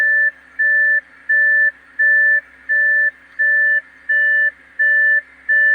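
Steady repeating car door-open warning beeps, about nine evenly spaced electronic tones in a two-part pitch, loud and close with nothing else around them.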